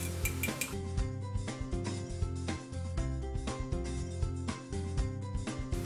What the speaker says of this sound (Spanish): empezaremos a batir nuestros huevos